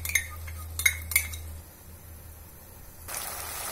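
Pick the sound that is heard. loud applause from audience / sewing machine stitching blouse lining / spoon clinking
spoon clinking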